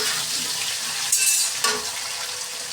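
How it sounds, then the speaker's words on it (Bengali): Cumin paste frying with potatoes in a pan, a steady close hiss and sizzle with a couple of brief louder scraping stirs partway through. "জিরাটাকে আলুর সাথে আরেকটু ভালোভাবে একটু নেড়েছে ভেজে নিব"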